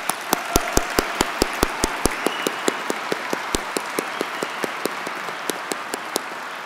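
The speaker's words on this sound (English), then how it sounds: "can we please clap again for Peter?" Audience clapping at a journalism awards ceremony, led by very crisp, close claps in a quick regular beat over softer background applause that gradually thins out.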